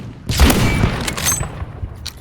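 Shotgun blasts in a video game: a heavy boom near the start followed by rolling, crackling gunfire and a second burst, loud and close with no talk over it.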